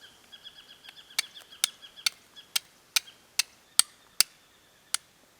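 A steel striker is scraped hard against flint to throw sparks onto char cloth outdoors in an Australian forest. It makes a quick series of sharp, crisp clicks, about a dozen strikes over several seconds, close and loud. Faint bird calls sit in the background.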